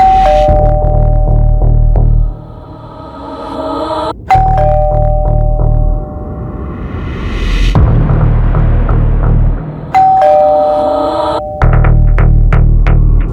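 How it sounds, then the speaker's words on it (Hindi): A two-tone doorbell chime rings three times, each ding-dong ringing out over a steady low hum, with gaps of quieter background between. "बस डोरबेल बजी"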